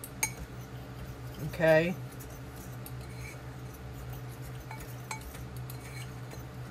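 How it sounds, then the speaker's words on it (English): A spoon clinks and scrapes as a mixture with sugar is stirred in a bowl, light and close, with a brief louder clatter near the start and a voice speaking briefly. "I'm stirring that up in this bowl."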